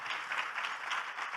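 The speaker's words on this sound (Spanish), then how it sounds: "Y un aplauso para nuestro Dios" A church congregation applauds at a Sunday service, a fairly faint, steady wash of clapping with a slightly pulsing rhythm throughout.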